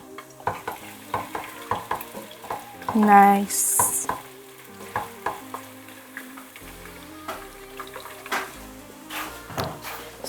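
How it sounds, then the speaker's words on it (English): Hot oil sizzles steadily in a pot for toasted egusi soup while a utensil stirs and clinks against the sides; a voice briefly speaks partway through. "we're already hearing that sizzle"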